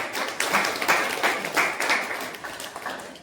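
Applause rises from a crowd at a swearing-in ceremony held by a senior Brahmin family association in Nadiad, Kheda, with steady, dense clapping and sharper bursts of individual claps throughout.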